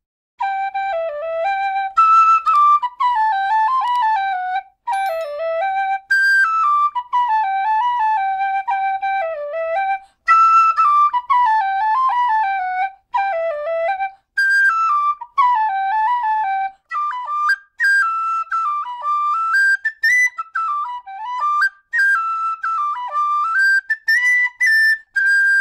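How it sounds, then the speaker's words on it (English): An Alexander Karavaev high D tin whistle plays a lively melody, with clear, pure, piercing notes in quick runs and ornaments, phrases separated by short breaths, played solo and close. "you won't find yourself out of breath with this whistle, definitely not"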